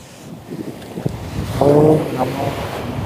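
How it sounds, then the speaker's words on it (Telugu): Powerful ocean waves break on a beach, giving a rushing surf roar with wind buffeting the microphone. The roar builds toward the middle, and a voice speaks briefly over it. "మస్తు పవర్ఫుల్గా వస్తున్నాయి అలలైతే"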